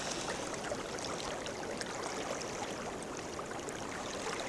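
A small creek beside the Rogue River flows with a steady, faint rushing and trickling, unbroken and even throughout.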